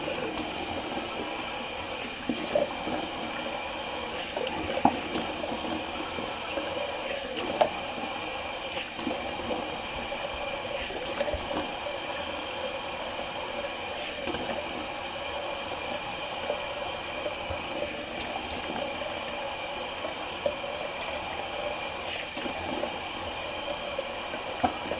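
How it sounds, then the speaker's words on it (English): Cold tap water runs steadily from a faucet while a face is rinsed after a shave with Phoenix Aqua D shaving products, a constant broadband rush with small splashes and no talk. "Hit it with the old cold water."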